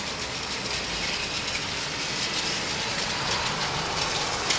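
Motorized TOMY Plarail Pokemon Pichu Bros toy train with an automatic point, running along a plastic track as a steady, continuous whirring and rattling drone at close range with no talk over it.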